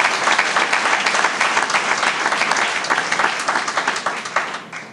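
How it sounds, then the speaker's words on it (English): A crowd at a public schools ceremony in Prince George's County gives a loud, sustained round of applause, dense clapping close and full for five seconds before tapering off. "Can we give him a round of applause, please?"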